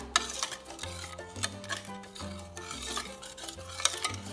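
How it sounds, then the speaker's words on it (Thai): A spoon stirs a mixture of plain water and agar powder in a pot, making a soft rhythmic swishing with repeated light scrapes and clinks against the sides, close and gentle. "แล้วก็คนส่วนผสมให้เข้ากันดีนะคะ"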